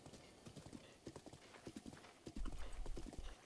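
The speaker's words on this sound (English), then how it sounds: "I love the fact that these horses just go down the road" Horse hooves clip-clop steadily along a road in the video game Breath of the Wild, a quick, even patter of fairly faint hoofbeats, with a low rumble joining near the end.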